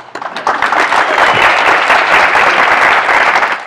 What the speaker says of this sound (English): Another round of applause for our very skilled MC this morning.